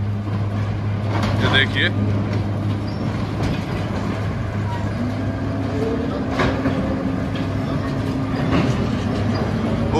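A hydraulic system at a sugar mill tips and unloads a sugarcane trolley with a steady low machine drone and a rising whine partway through, under continuous yard noise while someone talks.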